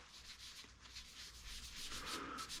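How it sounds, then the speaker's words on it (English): Cured resin being polished by hand with Axe abrasive paste and polishing paste, a soft continuous rubbing hiss, close but quiet, with a slight rise in intensity toward the end. "Now I'm going to use Axe abrasive paste and the polishing paste"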